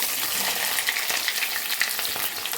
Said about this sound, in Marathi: आता याच्यात हा जो कापलेला सर्व कांदा आहे तो घालूया